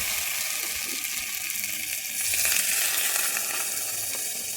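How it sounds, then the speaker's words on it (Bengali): Pointed gourd (potol) cooking with a little added water in a pan, stirred for a vegetarian poppy-seed dish: a steady close sizzle and frying hiss with faint stirring scrapes, growing slightly louder partway through, no talking. "জল দিয়ে আমি এটাকে আরেকটু ভালোভাবে নেড়ে নিচ্ছি"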